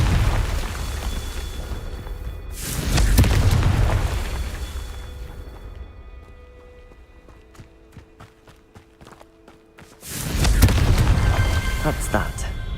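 A Confringo blasting spell from a Harry Potter video game erupts in two heavy, booming blasts, each swelling into a long rumbling roar with a quieter stretch and scattered clicks between them.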